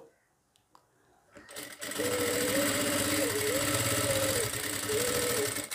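A sewing machine stitching a blouse starts up after a few faint clicks and then runs at a steady, rapid whirring pace, close and loud, with a few pitch shifts as the speed changes.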